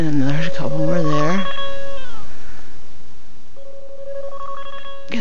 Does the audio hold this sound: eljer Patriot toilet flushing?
no